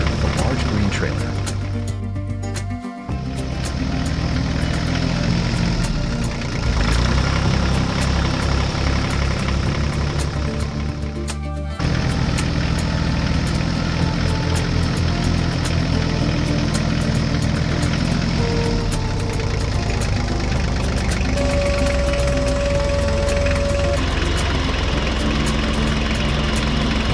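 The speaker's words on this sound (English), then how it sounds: "For this task, we will need a large tractor with a large green trailer." Large tractor and combine harvester engines run continuously while grain is unloaded into a green trailer, a loud steady rumble throughout with a voice speaking over it.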